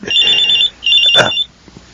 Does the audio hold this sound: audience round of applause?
no